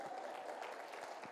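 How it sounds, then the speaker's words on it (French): An audience applauds steadily, a dense, moderately distant patter of many hands clapping throughout. "Merci, on peut l'applaudir de nouveau."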